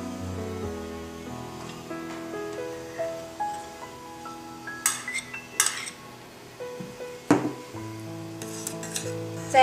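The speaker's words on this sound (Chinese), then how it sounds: "我们取来一个锅子，加入我们的蔬菜高汤以及绞好的南瓜泥" Pot of vegetable stock and pumpkin puree being stirred, a spoon clinking and scraping against the metal pot in irregular bursts with a ringing tone, close and fairly quiet.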